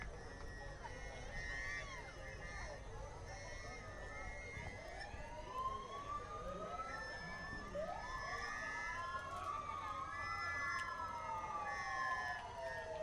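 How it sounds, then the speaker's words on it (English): Search and rescue mobile units pass in a small-town forest festival parade, several vehicle sirens wailing and rising and falling in overlapping sweeps, fairly distant and faint over a constant outdoor background. "Lots of sirens."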